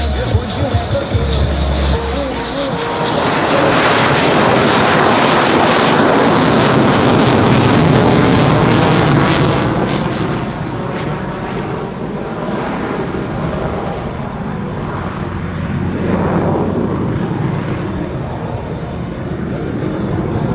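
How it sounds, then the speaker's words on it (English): F-16 Viper fighter jet making a knife-edge pass at the California Capital Airshow, a loud broadband jet roar that swells to a peak mid-pass and then recedes into a lingering rumble, with crowd murmur underneath. "The F-16 and the knife edge pass."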